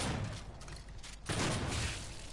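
Shotgun blasts from the Doom beta on PS4, a dense, loud burst of gunfire texture that dips briefly before a sharp blast resumes at full strength, with no talk.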